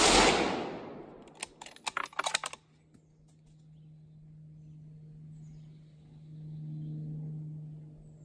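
Single shot from a custom 6.5 rifle build at a range, a loud sharp crack opening the clip that fades away, followed by a short cluster of faint clicking handling noises and a low steady hum.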